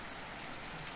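Rain falls at night in a steady, dense hiss that lasts throughout, close and fairly even, with no voices.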